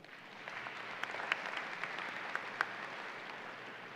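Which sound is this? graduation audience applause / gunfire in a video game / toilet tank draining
graduation audience applause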